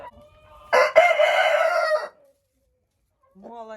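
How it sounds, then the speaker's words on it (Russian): A rooster crows loudly and close, one long drawn-out cock-a-doodle-doo lasting over a second, followed by silence and then the short start of another call. "Молодец, как красиво он кукарекает, громко."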